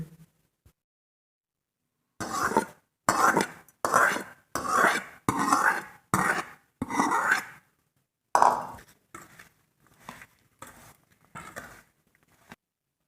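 Cooled fenugreek tempering in groundnut oil being mixed into an instant masala lemon pickle, as rhythmic bursts of spoon stirring and scraping against a bowl, separated by silent pauses, close and clear.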